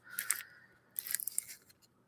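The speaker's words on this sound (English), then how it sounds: "Hear me sharpen my pencils." Quiet scratchy grinding comes in two short bursts, a pencil being turned in a sharpener, with brief pauses between.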